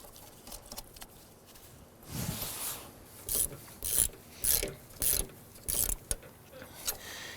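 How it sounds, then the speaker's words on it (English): A ratchet starts and snugs a nut on the rear shock absorber of a 2006-10 Honda Civic: a scraping stretch, then regular bursts of rasping clicks, close up. "Let's go ahead and get that nut started here."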